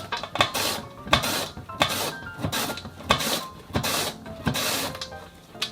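Radish being shredded on a mandoline slicer for kimchi, a run of repeated rasping strokes, close and fairly loud, with light clinks of kitchenware between them and no talking.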